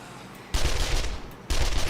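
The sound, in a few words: SMG submachine gun firing in 7 Days to Die video game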